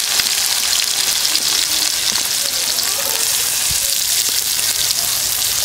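Cumin, mustard seeds, curry leaves and finely chopped onion frying in hot oil, a loud, dense hiss like heavy rain that holds steady throughout.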